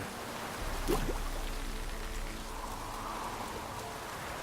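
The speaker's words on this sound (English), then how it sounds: "Hopefully get rid of this goddamn rain." Steady rain falls throughout in the video game The Witcher 3: Wild Hunt, a dense, even patter with a brief louder splash near the start.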